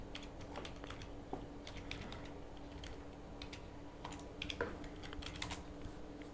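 Rapid, uneven keystrokes on a computer keyboard while code is entered in a terminal, close and fairly quiet, with no talking.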